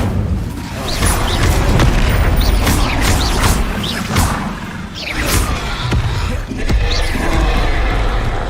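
Spells cast in the video game Hogwarts Legacy, including an Incendio fire spell, burst out as loud, dense whooshes and booming impacts over a continuous game soundscape, with several sharp bright flares throughout.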